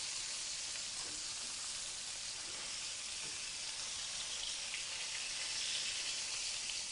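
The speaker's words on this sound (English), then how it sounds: "And I'm going to sear them." Pork pieces sear in an Instant Pot, giving a faint, even sizzle of hot fat that crackles softly and steadily without a break.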